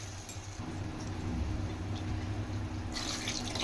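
Water being poured into a cooking pan of okra and egg tamarind stew, a soft steady splashing and trickle running for several seconds at close range, with no talking.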